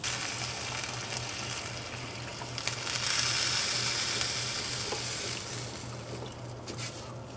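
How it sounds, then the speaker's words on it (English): Beef stock is poured into a pan of slowly sautéing ossobuco, producing a steady, close sizzling hiss with a watery gush that swells for a few seconds before settling back. "Now is the time to add the beef stock into that."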